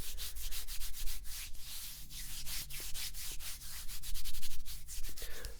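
Close-up fingertip tapping and skin rubbing on a muscular forearm, a dense run of sharp dry taps over a steady soft scraping texture, intimate and fairly loud with no talking.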